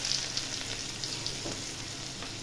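Chopped onion and garlic sizzle in hot oil for a crispy potato snack, a steady close broadband crackle with faint stirring scrapes and no talk.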